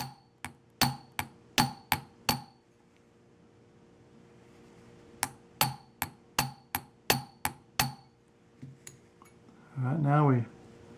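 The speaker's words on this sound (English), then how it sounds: "now once we spread the rivet, we use the flat nose punch to finish the job off" A flat nose punch is hammered to spread the rivet on a balance staff during Elgin railroad pocket watch balance repair: two close, rapid runs of sharp light metallic taps, with a brief voice at the end.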